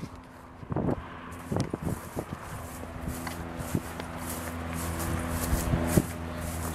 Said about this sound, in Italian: Un po' di vento, perché il vento c'è, è anche abbastanza sostenuto.